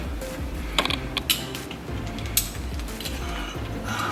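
Hand tightening a battery terminal nut on an Audi S5 during a battery change, heard as close, quiet mechanical creaks and small ratcheting clicks with a few sharper metallic ticks.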